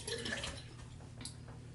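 Water poured or dripped from a tap onto a small amount of powder cleanser in the hand, a soft, steady splashing and trickling close up with a few brief drips, no talking.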